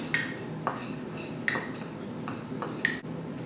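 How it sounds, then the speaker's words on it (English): A utensil stirring an essential oil blend in a small bowl, producing several sharp clinks and taps spaced irregularly over a quiet background, close and without speech. "And then just stir it up."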